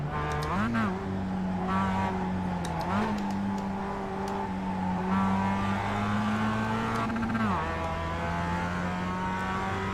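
A racing video game car engine drones and revs continuously, with pitch sweeping up and dropping sharply at gear shifts and downshifts several times, loud and constant with no pause.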